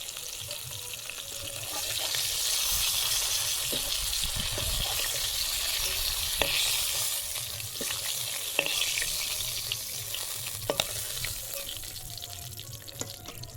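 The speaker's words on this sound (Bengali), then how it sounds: "এরকম লাল লাল ভাবে দু পিঠ ভালো করে ভেজে নেবো" Continuous crackling sizzle of pangas fish frying in hot oil in a wok, close and steady, with occasional light clicks of a utensil and no talking.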